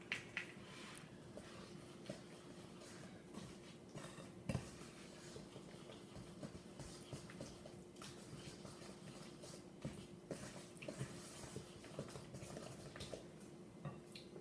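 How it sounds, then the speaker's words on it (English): An egg being mixed into cookie dough for chocolate peanut butter thumbprints, with steady, soft scraping and clinking of a utensil against the bowl throughout, quiet and unbroken by talk. "We're going to start by adding 1 egg at a time and mixing after the addition of each egg."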